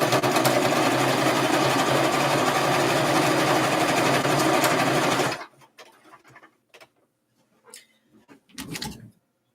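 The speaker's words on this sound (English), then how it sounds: "I'm going to use brown thread just to sew here" A sewing machine stitching the bottom seam of a fabric makeup bag with brown thread: a loud, fast, steady mechanical whir for several seconds, then it stops, followed by soft clicks and handling sounds.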